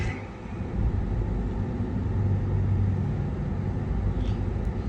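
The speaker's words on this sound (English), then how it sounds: "It's freaking traffic." Steady low rumble of road traffic heard from inside a car stuck in slow congestion, a continuous engine and road drone with no talking.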